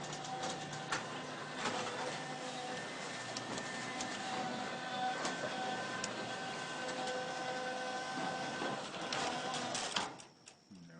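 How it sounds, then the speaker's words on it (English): Model train track drive motor running with a steady, strained mechanical whine and faint rattling, continuous for about ten seconds before cutting off. "And yes, I know the motor does sound like it's straining."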